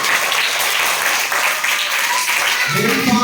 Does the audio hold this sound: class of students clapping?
yes